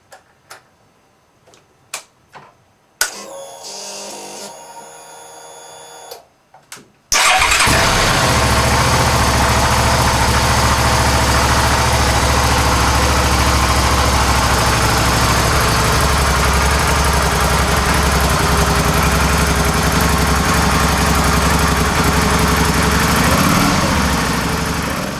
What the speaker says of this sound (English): So we will start the engine for about